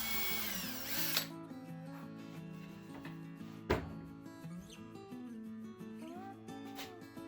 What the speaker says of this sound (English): Now I'm going to drill the other side.